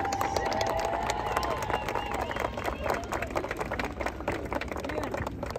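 Crowd applause and cheering at a school event, with dense, steady clapping and whistles and shouts mixed in throughout, loud and close, with some voices audible in the crowd.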